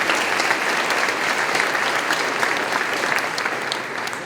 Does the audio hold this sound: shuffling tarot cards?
no